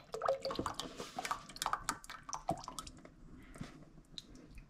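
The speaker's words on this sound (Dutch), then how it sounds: "Tot de laatste druppel." Soup from a shaken container drips into a saucepan in its last drops, a handful of small wet splats and squishy trickles, close and quiet, spaced irregularly and thinning out toward the end.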